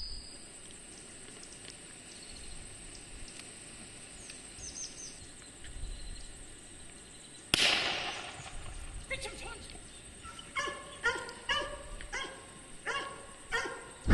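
A gundog at a pointer and setter field trial yips and barks in a quick series of short, sharp calls, moderately near, after a quiet stretch of open-field ambience with insects.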